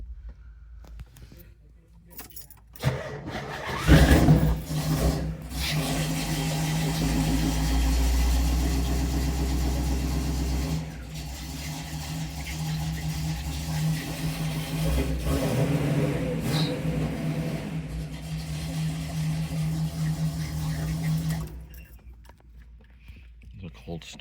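A 1970 Pontiac Trans Am with a 400 Ram Air III V8 cold starts indoors, catching and settling into a loud, rough idle before it shuts off, with someone talking over it.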